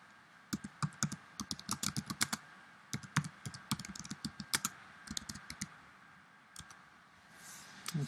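Words being typed on a computer keyboard: bursts of sharp, close key clicks in uneven runs, pausing briefly before a final few taps.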